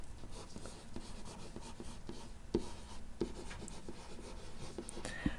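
A green pen is dragged across a board as notes are written in a physics lesson, making a continuous quiet scratching and squeaking with occasional sharper taps.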